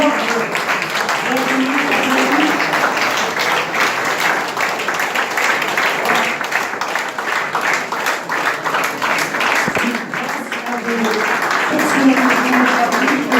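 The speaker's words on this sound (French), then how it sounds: "Je demande à tout le monde de se mettre debout pour applaudir notre professeur." A standing audience applauding a professor at a gathering of Muslims in French Guiana, a full, sustained burst of clapping from many people that stays loud throughout, with faint voices underneath.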